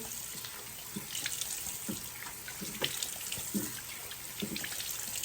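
Tap water runs into a first-class airplane bathroom sink during face washing, a soft continuous flow broken by irregular splashes and gurgles from hands in the water, close but quiet, with no talking.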